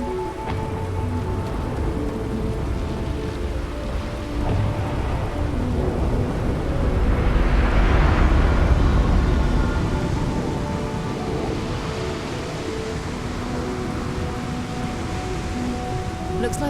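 Steady rain with low thunder rumbling over Neon city in Starfield, swelling to a louder roll midway then easing back, continuous and fairly close with a few faint tonal game sounds underneath.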